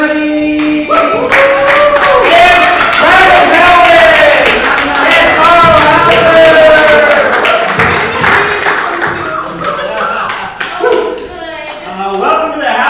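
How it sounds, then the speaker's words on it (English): Audience at a live comedy show claps and cheers, broad applause mixed with whoops and a voice rising over the crowd before the clapping thins out toward the end. "It's a round of applause."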